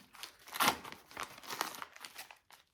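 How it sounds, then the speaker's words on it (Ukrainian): Scissors cut open a gift package, producing a short run of crinkling, crackly plastic and paper snips that are close and fairly quiet, with one sharper burst near the start. "Я ріжу з краю, щоб не порізати свій подарунок."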